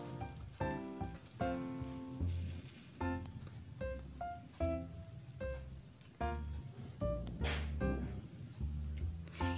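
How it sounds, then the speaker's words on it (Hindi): Egg pieces frying in oil over a medium flame for egg chilli, with a close, steady crackling sizzle that comes in repeated bursts of popping and spitting. "मीडियम फ्लेम पे अच्छे से फ्राई कर दे, ज़्यादा नहीं, हल्का गोल्डन ब्राउन हो तक हम फ्राई करेंगे।"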